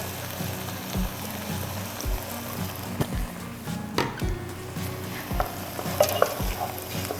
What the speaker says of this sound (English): I'm going to add a little bit more olive oil into this one as we simmer